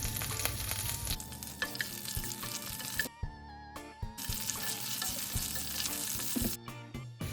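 Green chillies and curry leaves fry in refined oil for channa masala, a loud, crackling sizzle filling the clip up close, briefly dipping once before surging again, with no talking.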